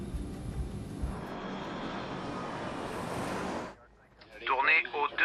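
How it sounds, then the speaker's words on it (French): TAROM Flight 371 airliner climbing just after takeoff, a broad steady engine roar and rushing air for over three seconds before it drops away, followed by a voice speaking. "Juste après le décollage, l'avion vire à gauche vers son premier point de cheminement."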